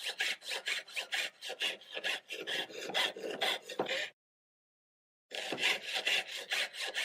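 Jeweler's saw piercing metal sheet, a steady run of quick rasping back-and-forth strokes up close, briefly stopping for about a second before the sawing resumes at the same even rhythm.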